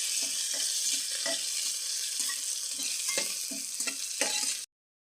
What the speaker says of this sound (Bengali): আর এটাকে ভালো করে ভাজে নেব।